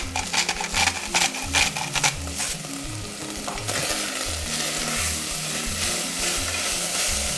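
Food being stirred in a pot on the stove, a quick stir through a seasoned mixture with salt and ground pepper, giving steady scraping and sizzling under a continuous frying hiss, with no talk.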